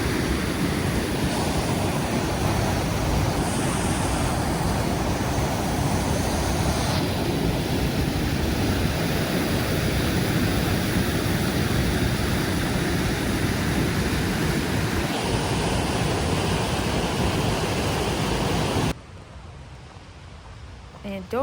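A waterfall in Marinette County roars as a loud, constant broadband rush of falling water, steady throughout and cutting off sharply near the end.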